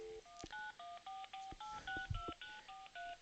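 Telephone keypad tones sound in a steady sequence of about eleven short dual-pitch beeps, evenly spaced and clean, with a faint click between presses and no talking.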